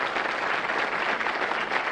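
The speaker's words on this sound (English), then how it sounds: "if you folks in the studio audience will indicate your choice by applause" Studio audience applause during a vote on a comedy variety show, an even wash of clapping at moderate level lasting the whole stretch with no voices.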